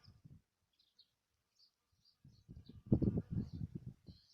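A bee buzzes faintly on flowers in an outdoor spring setting, a thin, wavering drone that comes and goes while a low voice talks underneath.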